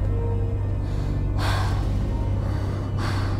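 Two breathy exhalations imitated by a voice, each a drawn-out airy rush, over a low steady hum.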